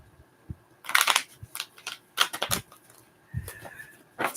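Tarot cards shuffled by hand, heard as irregular bursts of soft slaps and riffles with short pauses between them, close and moderately loud, with no voices.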